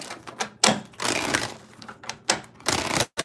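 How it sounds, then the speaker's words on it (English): Tarot cards shuffled in bursts of crisp riffling and flicking, close and fairly loud, with short pauses between flurries. "One more shuffle."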